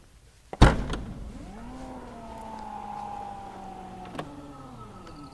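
The power tailgate of a Mercedes-Maybach GLS SUV opens automatically: a click and thump, then a smooth whirring motor hum for a few seconds, ending with a small clunk as it stops.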